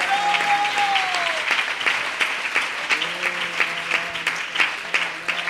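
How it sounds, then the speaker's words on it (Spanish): A church congregation at a worship service claps in sustained, dense applause, with scattered voices and tonal sounds from a keyboard or singing running through it. "Denle un aplauso a este Señor de señores"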